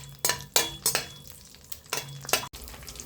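Semolina with cashews and raisins roasted in a pan for rava laddu, several quick, loud scraping stirs in bursts over a soft frying sizzle, heard close up without speech.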